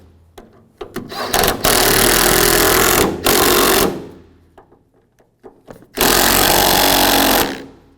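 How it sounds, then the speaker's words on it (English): A power tool runs in two loud, sustained bursts to tighten the tailgate hinge bolts on a 2007-2013 Chevy Silverado 1500, with shorter clicks and mechanical clatter around them, close up. "Now tighten these bolts down."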